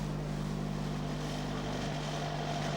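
A car engine with Weber twin carburettors running at a steady fast idle, a loud, continuous droning hum with no variation.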